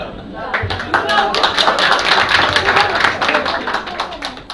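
A political rally audience in Yenişehir claps after a speech, sharp individual claps forming a lively burst, with voices talking over the applause throughout.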